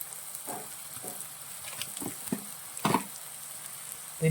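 Chili powder masala with crushed chili frying in a pan for a banana-leaf mackerel pollichathu, a faint, steady sizzle broken by a few soft stirring scrapes and pops, with no voices.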